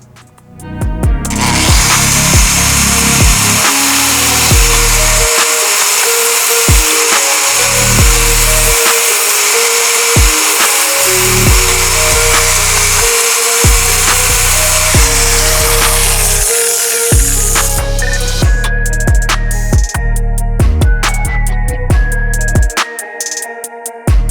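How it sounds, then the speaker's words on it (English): A power tool cuts through metal hose clamps on a BMW M1000RR motorcycle, a loud, continuous, high-pitched grinding whine that wavers in pitch as it bites, running for about twenty seconds before breaking into choppier bursts. "So we got to cut those clamps, well, at least one of them, to remove this hose."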